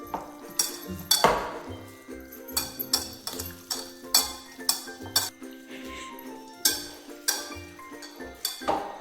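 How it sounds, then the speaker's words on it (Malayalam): A spoon clinks and scrapes against a pot while stirring salt into a butter chicken mixture, a steady run of sharp metallic taps and knocks at close range. "ഇത് മമ്മി കൂട്ടി ഇളക്കാൻ പോവാണ്."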